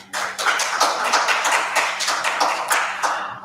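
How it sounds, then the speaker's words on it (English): Applause breaks out at a council meeting right after a motion passes unanimously, a dense crowd of hands clapping steadily for about three seconds with no talking over it. "I'm letting clapping happen tonight"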